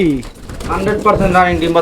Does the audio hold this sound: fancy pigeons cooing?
yes